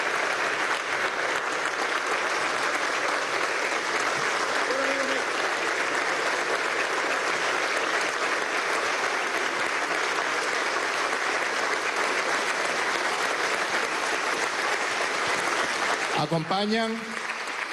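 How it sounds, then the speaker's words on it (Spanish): Applause fills the National Assembly chamber, a long steady roar of many hands clapping at an even level for most of the stretch, with a brief spoken word near the start of a voice cutting in at the end. "para quien pido un aplauso"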